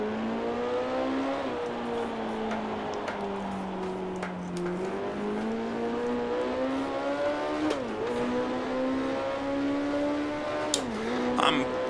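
Vintage race car engine from Grand Prix Legends, a loud continuous high-revving whine rising and falling with gear changes and throttle lifts throughout, with no voice over it.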